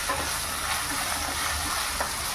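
Potatoes and onions fry over a high flame with a continuous, loud, bright sizzle and hiss. The sound stays even and close throughout, with no talking.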